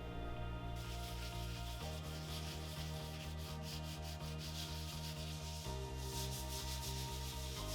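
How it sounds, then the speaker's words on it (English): A power sander works over a surface during a house renovation, a loud continuous rubbing drone with a rhythmic pulsing pattern as the tool passes back and forth, running without a break and close to the listener. "Sanding done, let the clean-up begin."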